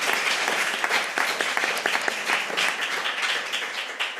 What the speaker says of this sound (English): A round of applause to our young